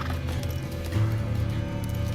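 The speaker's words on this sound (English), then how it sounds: "The men swung their horses around and galloped out the way they had come." Horses gallop away in a dramatized story scene. A fast, steady clip-clop of hooves rolls through the whole short span at moderate distance, with no voices.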